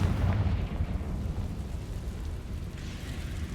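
A Confringo spell explodes in a video game with a deep, rumbling blast that starts loud and slowly fades into a low, rolling roar, with no voices.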